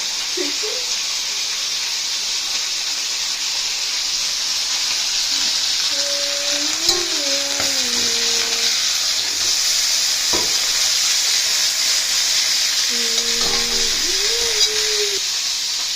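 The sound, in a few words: chicken frying in oil for roast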